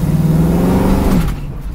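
A 1969 Chevrolet Camaro's engine revs loudly up close, a strong throaty drone that climbs briefly before dropping off, with no talking over it.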